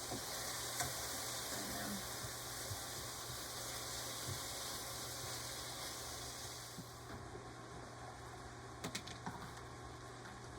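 Chicken pieces sizzling and browning in a pan for coconut curry soup, a steady dense frying hiss throughout with a few faint clicks as pieces are turned, no speech.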